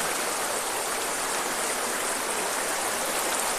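A river stream flows steadily along a riverbank ecosystem, a dense continuous rushing wash of water with no pauses, close and fairly loud, with no voices.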